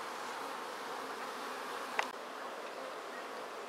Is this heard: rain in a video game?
no